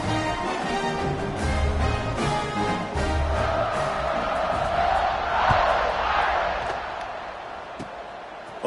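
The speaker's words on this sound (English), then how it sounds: "You think this crowd's going to get loud when their defense comes on the field?" Crowd roar filling a stadium in a college football video game as a kickoff is set, a steady loud cheering wash that swells midway and fades slightly at the end.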